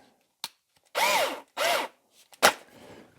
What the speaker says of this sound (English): drilling a hole in the middle for the screw